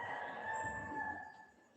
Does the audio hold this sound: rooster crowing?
yes